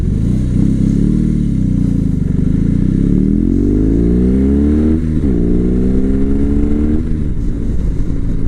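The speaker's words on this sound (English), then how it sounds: "I do like the way this bike sounds, and it's fun setting off in it." BMW R 18 B motorcycle engine while riding, a deep, loud, close rumble that rises and falls in pitch as the bike accelerates through gears, with a steady throbbing drone throughout and no speech.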